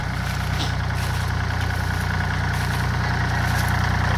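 A water pump engine drives water into a rice field, running continuously nearby with a steady low, throbbing drone and no pauses.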